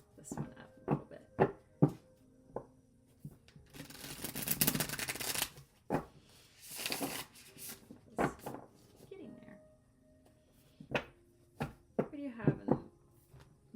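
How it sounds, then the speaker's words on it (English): Tarot cards being shuffled up close in bursts: a dense riffle rush near the middle, then scattered crisp snaps and taps of cards, with soft voice sounds in the pauses. "I'm going to take a couple shuffles to warm this one up a little bit."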